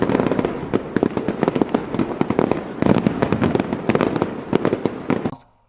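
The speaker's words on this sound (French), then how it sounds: "c'est les feux d'artifice" Bastille Day fireworks in France, a dense barrage of sharp bangs and crackles bursting in rapid irregular succession for several seconds before cutting off abruptly.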